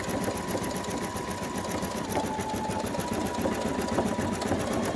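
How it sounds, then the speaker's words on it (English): A Brother NQ1700E embroidery machine stitches a butterfly wing, giving a steady, fast mechanical whir with rapid needle chatter that stays constant and close. "So far, this machine's been good."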